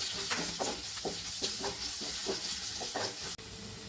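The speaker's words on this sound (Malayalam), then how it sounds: "നമ്മുടെ സവാള ഏകദേശം വഴണ്ട് വന്നിട്ടുണ്ട്." Two large sliced onions sautéing in a pan, a soft steady sizzle and hiss with occasional stirring scrapes, close and fairly quiet.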